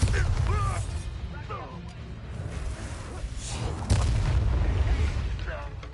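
A Bombarda blasting spell erupts in a Harry Potter video game, with deep booming explosions and rumbling impacts over a heavy low drone, and character voices talking alongside.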